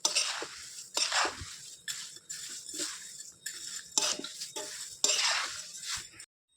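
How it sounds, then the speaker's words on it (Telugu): A spoon scrapes and clinks repeatedly against a pan as roasted flattened rice (poha) mixture is stirred, a series of close, quiet, irregular rattling strokes. "అటుకులు మొత్తం దీంట్లో వేసుకోవాలన్నమాట చేసి మొత్తంగా కలపాలి"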